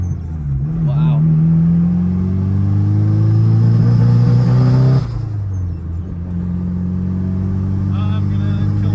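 Nissan S13 with an SR20 engine suffering a misfire, revved in loud rising sweeps that drop back to a rough idle, with voices talking over it.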